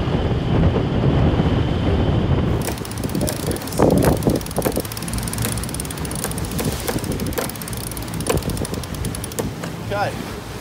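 Wind buffets the microphone with rushing water and hull wash while a Seawind 1260 catamaran sails in a fresh 15 to 20 knot breeze, loud gusty noise up close with scattered knocks and clatter.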